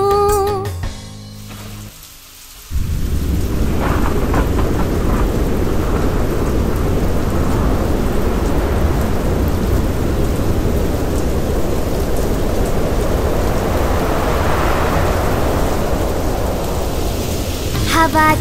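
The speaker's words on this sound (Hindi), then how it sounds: "हवा चली वर्षा हुई, आ गया तूफान" After a brief musical opening, a thunderstorm with wind and heavy rain rushes in as a loud, steady, broadband roar that continues unbroken to the end.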